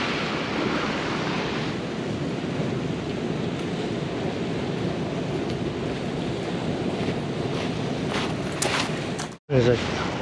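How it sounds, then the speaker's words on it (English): Ocean waves rolling over onto the shore at Bodega Bay, California, a steady loud roar of surf with wind buffeting the microphone throughout and a brief dropout near the end. "There's a good side wave. You see it rolling over?"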